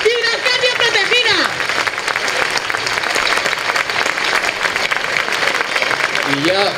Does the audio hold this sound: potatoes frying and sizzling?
no